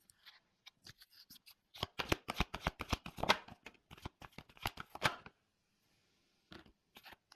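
Tarot cards being shuffled by hand, a close, quiet run of rapid papery riffles and slaps in short bursts, then a brief pause and a few final taps.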